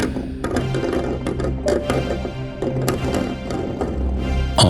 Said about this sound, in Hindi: फ्रिज जोर जोर से अपने आप हिल रहा है